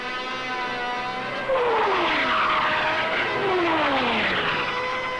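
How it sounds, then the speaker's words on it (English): Military jet aircraft launched from the aircraft carriers Ranger, Hancock and Coral Sea during the Vietnam War roar past with a continuous engine rush and falling whine as they pass, loud and sustained with no talking. "Sent aloft from the carriers Ranger, Hancock, and Coral Sea, the planes hit Dong Hoi"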